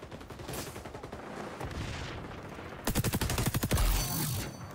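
Gunfire in the shooter XDefiant: scattered shots at first, then a fast, steady automatic burst of about a dozen sharp rounds, fairly close and loud, trailing into a mechanical rattle.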